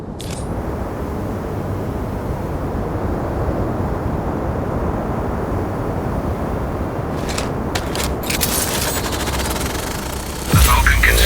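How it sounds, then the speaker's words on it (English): A Falcon drone launches and flies in the video game Sniper Ghost Warrior Contracts 2, giving a steady, loud whirring drone throughout, with a few sharp clicks and a louder burst near the end. "First up, Falcon drone."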